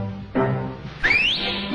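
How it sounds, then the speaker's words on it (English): Cartoon whistling from a 1942 Woody Woodpecker short: a brief low note, then a bright rising whistle that slides upward, close and clear over a faint musical background. "Why the whistle, Sizzle?"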